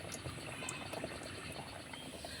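Spinach puri frying one at a time in hot oil in a small wok over low heat, giving a quiet, continuous bubbling fizz with no break.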